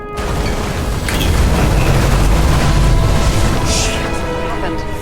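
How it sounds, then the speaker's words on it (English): A fuse blowing in the video game Nobody Wants to Die, a loud booming burst with a sustained rumbling roar that slowly dies away, with a voice speaking over it. "Sometimes the limiter doesn't adjust to the environment, and pop. Blown fuses."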